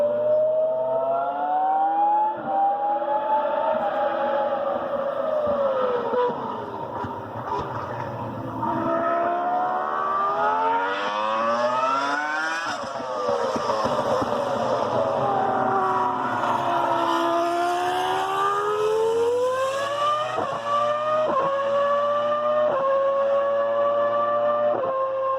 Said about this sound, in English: let's pass to the V10 engine sounds